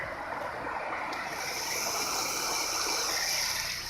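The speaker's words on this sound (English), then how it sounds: "That is whitewater covering the entire freaking road." Floodwater surging as whitewater across a road, a loud, continuous broadband roar and hiss of rushing water that stays steady throughout, with no voices.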